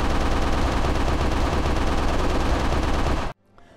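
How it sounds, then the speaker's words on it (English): Rapid continuous gunfire in the SCP-682 video game as a full ammo clip is emptied, a loud dense burst lasting about three seconds before cutting off abruptly. "So I'm just going to waste a clip of ammo"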